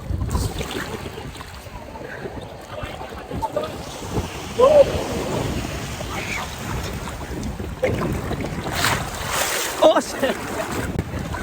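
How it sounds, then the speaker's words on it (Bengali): Big sea waves crash and wash at Ajman beach in a steady, close, broadband roar, with wind buffeting the microphone throughout and faint voices at times. "খুব বড় বড় ঢেউ মারছে।"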